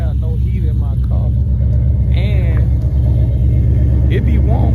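Deep, steady idle of a 1987 Monte Carlo SS engine warming up in cold weather, close and continuous, with faint chirping and small sounds scattered over the low rumble.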